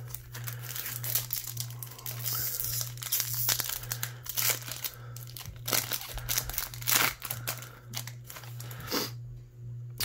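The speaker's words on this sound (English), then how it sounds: "Let's open up these stickers and see what's in here." A baseball card sticker pack wrapper is torn open and crinkled close up, with irregular crackling and rustling bursts of plastic over a low steady hum, no talking.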